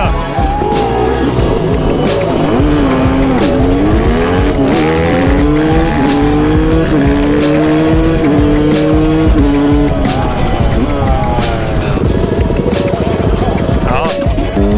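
Mopeds racing at a large rideout gathering at Frihamnen, engines revving loud and close with rising and falling pitch as they accelerate and shift, a continuous high-pitched engine whine filling the whole stretch, with people talking over it.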